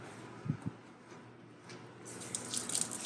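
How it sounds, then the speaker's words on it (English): Water running from a sink tap into a mop's small fluid container, a soft hiss with a couple of low thumps early on, growing brighter and splashier toward the end. "why don't you go ahead and fill up the YMOP's fluid container"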